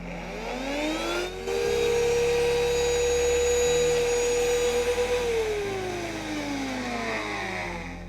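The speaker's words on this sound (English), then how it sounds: "and now let's grind this" Mixer grinder grinding ginger, salt, chaat masala and curd for ginger masala lassi, a loud steady motor whine with shifting pitch that runs continuously for several seconds.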